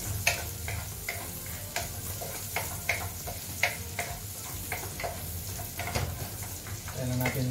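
Onion and garlic sautéing in a pan, a constant low sizzle broken by frequent light clicks and scrapes of a utensil stirring, close and fairly quiet, with no talking.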